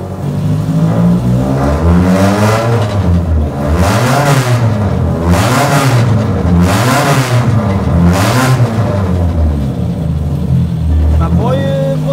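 A 7AG-engined drift car with a TTI sequential gearbox revs loudly and close, rising and falling through several pulls as gears are shifted without the clutch, with a voice speaking over the engine.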